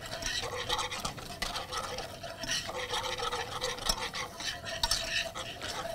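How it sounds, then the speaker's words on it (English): Lemon-lime curd being stirred in a pot over medium heat gives a steady, close scraping and swishing of a utensil against the pot, rhythmic and continuous at a soft level with no talking. "you just keep stirring this until it starts to thicken a bit"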